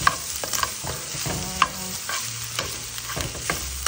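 Ground beef and potatoes for burritos get stirred in a frying pan, a sizzling hiss broken by repeated scraping and clinking strokes of the utensil, close by and without speech.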